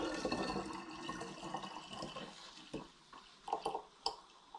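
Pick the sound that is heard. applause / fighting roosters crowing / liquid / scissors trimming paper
liquid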